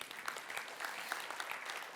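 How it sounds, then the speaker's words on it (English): An audience gives a round of applause at a business seminar, heard as a faint, steady wash of many hands clapping from a distance with no voices. "Let's give him a big round of applause"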